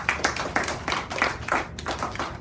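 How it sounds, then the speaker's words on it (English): An audience at a public speaking school claps for its student speakers in a steady patter of applause, moderately loud and close, without talking. "you, as well as our other 2 student speakers, deserve a big round of applause"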